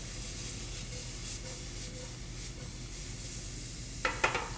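Finely minced garlic sweats in a pan with a soft, continuous low sizzle, faint and steady, with a couple of sharper clinks or stirring scrapes near the end.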